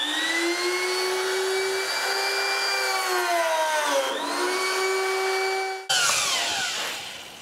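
A benchtop pocket hole machine whines steadily as its spinning bit drills a pocket into clamped wood, the motor pitch dipping under load, then a clunk as it stops and spins down.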